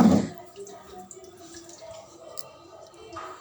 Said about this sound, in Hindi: इसका मैं पानी निकाल लूँगी